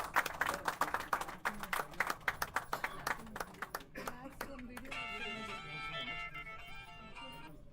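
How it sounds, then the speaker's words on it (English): Audience at a CEO conclave applauding, a burst of distinct claps that thins out over several seconds, fairly faint, with voices and a held musical tone coming in toward the end. "Can we have a big round of applause?"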